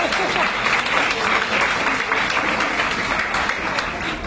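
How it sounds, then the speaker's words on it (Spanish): An indoor audience applauds a speaker, a dense, steady clapping that fills the room at close range, with some voices faintly under it. "el aplauso para Bettina, para iniciar."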